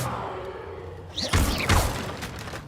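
A fire spell cast in the Hogwarts Legacy video game: a rising whoosh followed by two heavy bursting thuds about a second apart, loud and close over a low game ambience.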